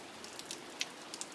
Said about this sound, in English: It's raining in Dublin.